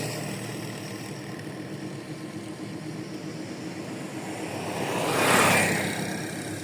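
A car engine idles as the driver stops near the Murree Road underpass works, a steady low hum with passing traffic swelling louder for a moment before fading back.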